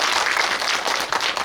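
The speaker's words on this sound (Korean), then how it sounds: "저희 박수를 한번 여기서 드려야 될 것 같아요" Audience applause at a film screening Q&A in a cinema for the Korean film 'Cassiopeia': a dense, steady patter of many hands clapping throughout, fairly close and filling the room.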